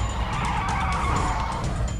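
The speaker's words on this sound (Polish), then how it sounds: "Przejechał mnie samochód." A car in the PUBG video game drives close by with its engine droning steadily, and tire skidding runs through the sound for about two seconds.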